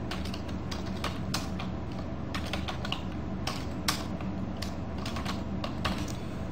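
Answer options are typed on a computer keyboard, a run of quick, close, clicking keystrokes in an irregular rhythm over a low steady room hum.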